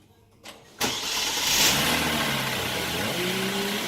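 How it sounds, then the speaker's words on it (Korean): A Genesis G80 engine turns over and catches, a sharp crank followed by a steady, fairly loud idle with a slight rev that holds to the end. "일단은 시동 걸어보세요"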